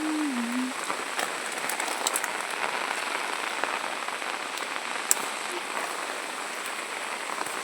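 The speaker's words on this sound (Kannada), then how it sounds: "ಮಳೆ ಸಹ ಜೋರು ಬರ್ತಾ ಉಂಟು." Heavy monsoon rain pouring over a village plantation, a steady, loud, even hiss of drops on leaves and surfaces throughout, with a sharper drip or tap now and then.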